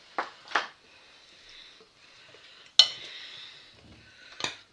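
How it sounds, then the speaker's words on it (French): Utensil scraping and clinking against a pan or dish while mixing creamy sauce with vegetables and cervelas sausage, a few distinct strokes close by with quieter stirring between. "Donc on va tout mélanger à blanc."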